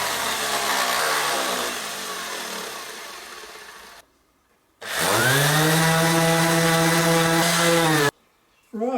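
A sanding disc machine, used with 240 to 300 grit for marquetry work, whirs loudly and steadily. It spins down to silence, restarts with a rising whine that holds at full speed, then cuts off again.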